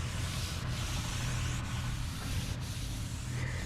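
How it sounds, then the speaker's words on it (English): A cloth wipes across the scraped precision ways of a machine tool under restoration, a close, steady rubbing hiss broken by a few brief scuffs as the strokes change. "Here's something I can wipe that off with."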